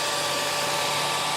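A hair dryer runs on high, giving a loud, steady, close whoosh of blowing air with a constant motor whine. The sound stays unchanged the whole time and is heard alone.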